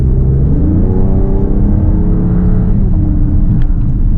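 A 2026 Dodge Charger R/T sedan's engine hums and rumbles steadily as it drives along a road, a continuous low drone with no voices.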